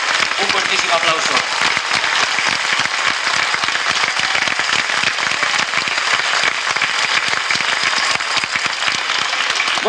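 Loud, sustained applause from a large audience at a folk dance performance, a thick, continuous clatter of many hands close by, unbroken for the full ten seconds.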